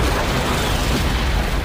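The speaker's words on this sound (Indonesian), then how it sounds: "hingga saat menggunakan peluru kaliber, ledakan terjadi sangat amat dahsyat" A huge, dense explosion blast from a sniper's caliber bullet in an Afghanistan war film, a loud sustained roaring burst filling the whole moment with no voices.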